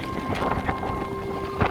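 Strong wind blows at a riverbank during rain, buffeting the microphone in loud, close gusts over a steady low hum.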